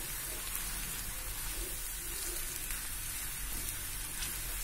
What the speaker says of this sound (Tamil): இந்த மாதிரி ஃப்ரை பண்ணிட்டா போதும் கீழ ஒட்டாம இருந்தா போதும்